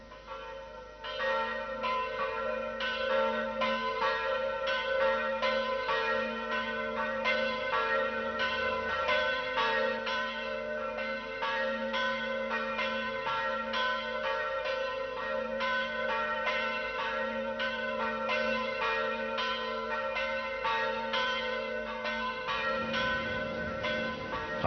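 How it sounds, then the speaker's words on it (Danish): Church bells of Skagen Church in Denmark ring for Sunday service in 1949, a steady, continuous peal of overlapping strokes sounding alone at moderate distance for the whole stretch, fading briefly at the end. "Om søndagen ringede klokker Jakob Jeppesen til gudstjeneste i Skagen Kirke"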